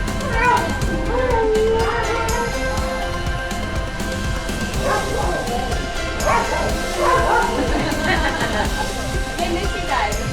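Sled dogs bark and yip excitedly in a pavilion at an Iditarod event, with repeated close barks, whimpers and high yips overlapping throughout, while people talk in the background.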